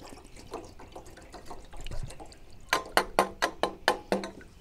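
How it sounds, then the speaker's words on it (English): Water being poured into a cooking pot on a small wood-burning camp stove to make oatmeal, heard as a run of about eight distinct splashing pulses near the end after quieter handling noise. "Pour our water."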